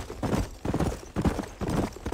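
Horses galloping in Red Dead Redemption, a fast rhythmic clip-clop of hooves pounding steadily and close for a couple of seconds.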